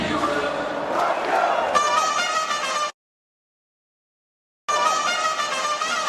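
Cricket stadium crowd cheering after India's win in the first international at the venue, a loud, dense roar that swells, cuts out abruptly for nearly two seconds, then returns at full strength.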